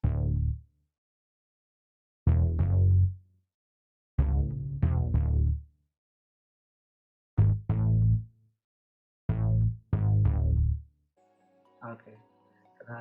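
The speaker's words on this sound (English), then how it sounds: "I have layered classic funky boogie bass from Alchemy with this one and deep synth bass" Layered bass from Alchemy, a classic funky boogie bass doubled with a deep synth bass, plays short punchy notes in a syncopated riff, with bursts separated by silences and a faint, busier tail near the end.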